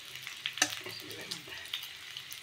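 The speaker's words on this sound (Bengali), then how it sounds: "এই যে ভাজা পুলিটা বসিয়ে দিলাম" Puli pitha sizzling in hot ghee in a pan, a soft, steady frying crackle with scattered light pops and a faint stir, quiet and close without talk.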